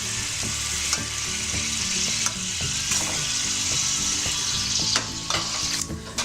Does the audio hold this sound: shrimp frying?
yes